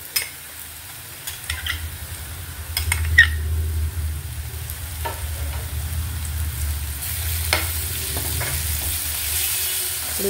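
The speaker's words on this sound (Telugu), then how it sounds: "ఇలా కొంచెం కలుపుతూ వేయించుకుందాం" Onions and green chilli paste stir-frying in a pan for a green chilli egg fry, soft sizzling under repeated scraping strokes of a spatula, close and steady.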